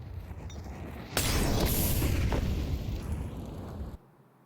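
A Molotov cocktail bursting in Counter-Strike 2 during a professional match, a sudden loud whoosh of roaring flame that holds for nearly three seconds before cutting off, heard under a faint broadcast background.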